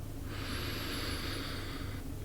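One slow, steady inhalation through the nose during a rhythmic breathing exercise, close and clear, lasting almost two seconds against a quiet background.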